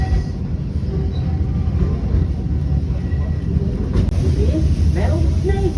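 The Walt Disney World Railroad train runs with a continuous low rumble and clatter, close by, while people talk over it.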